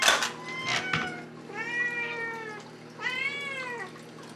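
Several house cats meow repeatedly for treats in a home with many cats, the cries rising and falling in drawn-out bursts over a steady low background hum, with no talking.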